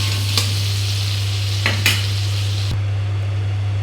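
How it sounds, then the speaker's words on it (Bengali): Potatoes frying in a wok with turmeric and salt, a loud continuous sizzle over a steady low hum, broken by three or four brief scraping stirs, close up and without speech. "এখন আলুগুলি ভেজে দিচ্ছি হলুদ লবণ দিয়ে। আলু ভাজা করে নিচ্ছি।"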